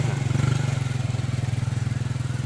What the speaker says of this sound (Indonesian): Ada motor pula sana.